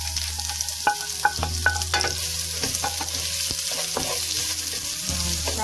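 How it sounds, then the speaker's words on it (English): Onions frying in a pan of egg fried rice, a steady sizzle with sharp clicks and scrapes of stirring throughout, close and even, under a low background hum. "And fry the onions"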